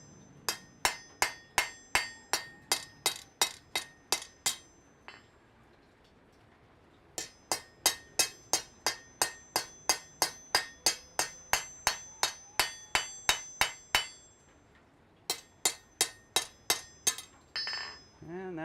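Blacksmith forging a thin leaf of hot steel on an anvil: three bursts of steady, ringing hammer blows with bright metallic clinks, each run broken by short pauses, close and loud with no talk over them.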